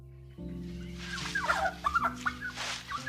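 Several turkeys gobble and cluck nearby in a lively, overlapping chorus over a low steady hum.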